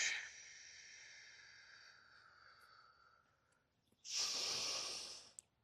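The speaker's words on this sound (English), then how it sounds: "We're going to take a breath in either on our hands or on your elbows. And exhale." Two soft breaths during a yoga hip-opening pose: a long, gentle airy exhale that fades out, then after a pause a stronger, louder rush of breath.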